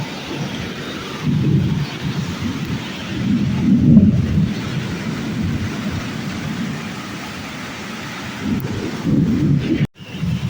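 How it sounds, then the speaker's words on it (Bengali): Heavy rain pours steadily with low, rolling thunder swelling and fading, heard through an open window from indoors, loud and continuous with a brief crackle near the end. "দেখো কি বৃষ্টি আর গর্জন হচ্ছে, খুব বাজ পড়ছে"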